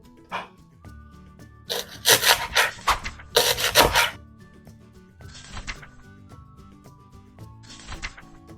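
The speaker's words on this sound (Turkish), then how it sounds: "Öncelikle pırasaları ince ince kıyıyorum." Leeks being finely chopped with a knife on a cutting board, heard as bursts of rapid close chopping strokes with quieter pauses between them.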